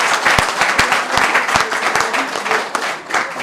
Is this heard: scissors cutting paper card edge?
no